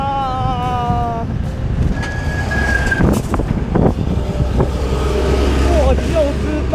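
Stalled traffic on the G318 Sichuan-Tibet highway near Zheduo Mountain rumbles close by, with a brief horn blast and passing engine noise. A voice talks over the vehicles.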